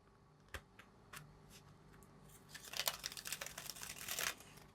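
Playing cards being shuffled by hand during a magic trick setup, a soft crinkly riffle that starts faintly and grows into a denser, louder burst of papery flutters in the second half, with no talk.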